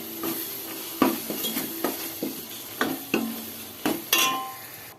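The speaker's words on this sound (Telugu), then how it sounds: "బాయిల్ చేసుకున్న చికెన్ వేసేసానండి." A spoon scrapes the pan in a steady rhythm as boiled chicken is stirred into a sizzling curry masala with coriander powder and green chilli, with clinks over a low, constant frying hiss.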